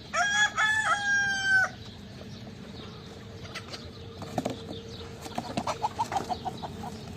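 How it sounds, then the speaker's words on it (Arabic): An Arab-breed rooster on a farm crows loudly and close by in one long, wavering call at the start, followed by quieter scattered clucks and farmyard bird sounds. "ديك العرب"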